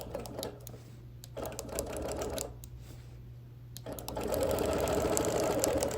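A quilting machine stitches a quilt in bursts of rapid, even mechanical chatter broken by short pauses, then runs continuously and a bit louder at the end; the sound is close and clear with no talking.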